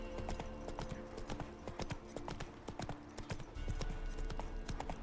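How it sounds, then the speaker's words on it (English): Rhythmic clip-clop of a horse cantering in the video game The Witcher 3: Wild Hunt, with steady hoofbeats over a faint background and no talking. "Nice and canter with our good old roach."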